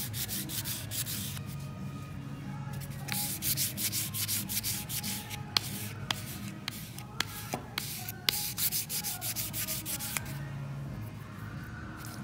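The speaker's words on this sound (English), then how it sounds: "I'm going to take a fresh 280 grit sandpaper stick. And I'm going to sand it till I get the brass showing nicely" A fresh 280 grit sandpaper stick rubs back and forth over an applied brass inlay, giving a continuous close scratchy sanding texture broken by a few sharp clicks and taps.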